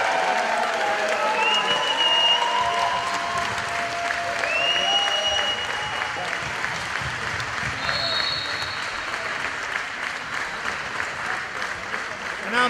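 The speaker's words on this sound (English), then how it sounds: "A round of applause for them." Sustained applause from a crowd at the 2015 USA Open team handball championship ceremony, honoring the second-place New York City women's team; steady dense clapping with some whistles and cheers throughout, fairly loud and continuous.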